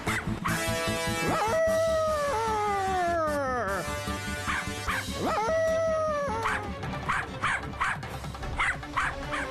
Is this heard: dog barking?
yes